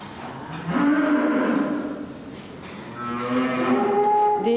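Dairy cows on a Swedish farm moo loudly and repeatedly, several long calls overlapping close by, with no talk.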